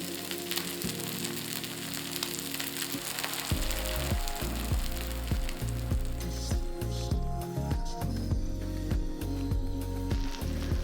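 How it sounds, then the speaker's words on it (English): Vegan goetta frying on a griddle, a steady close sizzle heard under loud background music with a thumping bass line. "we're going to let this fry on the griddle for anywhere between 8 to 12 minutes to make sure that the first side is completely crisp"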